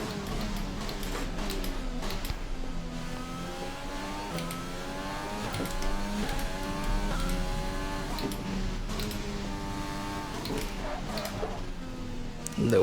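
A Formula 1 car engine in F1 2020 on a one-shot qualifying lap at Zandvoort for the Dutch Grand Prix, screaming loudly and continuously as it climbs through gears with repeated rising revs and quick upshifts.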